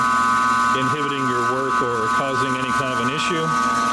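A Rikon 10-326 bandsaw runs with a quiet, steady hum beneath someone speaking clearly close to the microphone, the motor tone staying low and even throughout.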